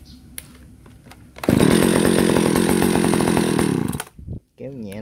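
A Japanese-made Echo 331EVL chainsaw fires up after a quiet moment and runs with a loud, close, buzzing two-stroke roar for a few seconds before cutting out, and a voice follows.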